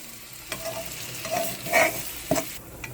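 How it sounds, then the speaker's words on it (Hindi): Flour is roasted in butter in a pan over a low flame, a soft gentle sizzle broken by several scraping stirs of a spoon against the pan, close and quiet with no talking. "उसके बाद हम अपना जो हमने मैदा लिया था उसको स्लो फ्लेम पर भूनेंगे।"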